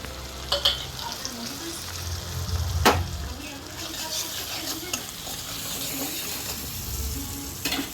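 Ground hot spices sizzling and being stirred in a pan for Bengali chhana kofta, a steady close fry with scraping stir strokes, soft low rumble and faint background voices.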